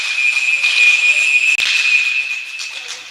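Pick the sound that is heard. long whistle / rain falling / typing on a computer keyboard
long whistle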